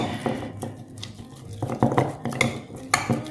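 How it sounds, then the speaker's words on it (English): A utensil stirs thick sourdough starter paste in a bowl, giving close, irregular scraping and clinking strokes against the container with no talk. "Now, we just want to stir this up and try to get some air in there."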